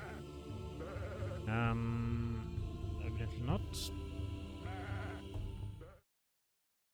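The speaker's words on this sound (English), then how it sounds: "there appears to be lots of goat in this tree for some reason" Goats bleat repeatedly in a pirate video game, wavering cries rising over a steady game music bed, with a person speaking briefly among the calls before the sound cuts to silence near the end.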